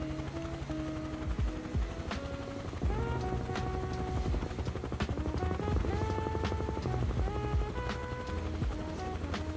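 A helicopter flying in the video game Microsoft Flight Simulator 2024, a steady rotor and engine drone heard throughout, overlaid with sliding electronic tones and scattered sharp clicks.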